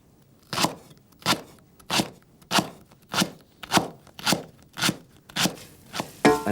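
A knife chops fresh vegetables finely on a board for a Thai fish curry, giving about ten crisp, evenly spaced strokes in a steady rhythm. The chops are close and clear, with no talk over them.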